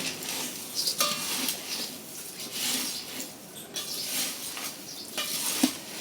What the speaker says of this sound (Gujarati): હવે એને મિક્સ કરી હવે દઈએ. મિક્સ કરી નાખીએ આપણે.